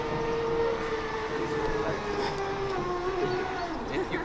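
Hyundai HYMD500B battery-powered mini dumper driving slowly under throttle, giving a steady electric motor whine with a low rumble, close and continuous.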